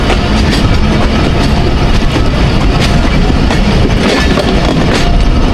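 The Thall Express passenger train runs on rails between Jand and Multan, giving a loud, continuous close rumble with rattling wagon noise and faint rhythmic wheel clatter throughout.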